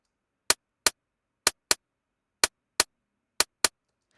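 A single synthesized TR-808 style clap pulse made in Phase Plant sounds as short, dry, crisp snaps with fast decay, played eight times in pairs against silence.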